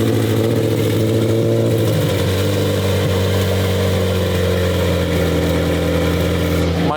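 A 1300 whp McLaren 720 GTR with gold GTR-style exhaust tips runs close and loud, its engine holding a deep, steady idle with a brief rev and shift in pitch around two seconds, then settling again.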